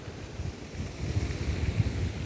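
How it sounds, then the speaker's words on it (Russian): Sea waves wash and slosh beside a small pier on the Tece waterfront in Mersin, Turkey, with gusting wind buffeting the microphone; the low, rumbling surge builds steadily and stays fairly loud throughout, with no talking. "Волны, конечно, сегодня ветерок."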